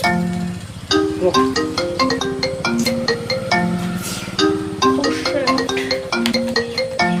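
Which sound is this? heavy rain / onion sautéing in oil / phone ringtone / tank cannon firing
phone ringtone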